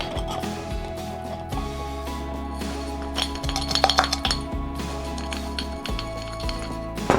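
A pan of toasted chili oil aromatics with MSG is shaken, giving soft repeated clinks and rattles of metal against a low steady hum, with scattered brighter scrapes in the middle.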